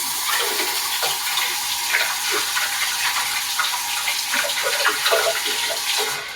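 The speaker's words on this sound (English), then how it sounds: "Quick rinse." Tap water running steadily for a quick rinse in a kitchen while making vegan lasagna, a continuous close hiss of flow with no talking.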